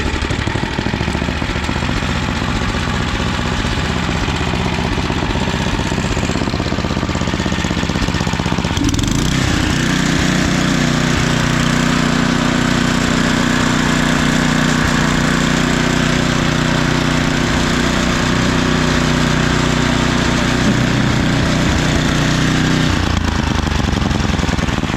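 An estate-sale snowblower engine runs loud and close, a rough steady drone that shifts partway through into a deeper, stronger running note before dropping back near the end.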